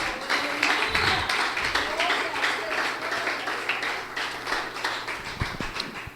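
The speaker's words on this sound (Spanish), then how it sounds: "Si usted no es ñeco, déle un aplauso al Rey." A church congregation claps during a sermon, a steady patter of applause running throughout at moderate level, with a low hum beneath and a few louder thumps.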